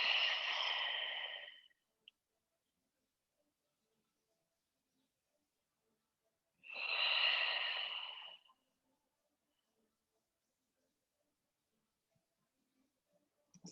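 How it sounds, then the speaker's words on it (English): Two slow, audible breaths during a yoga pose, each a soft airy exhale lasting a couple of seconds and separated by long quiet, close and gentle. "we're gonna breathe here for 3 slow breaths"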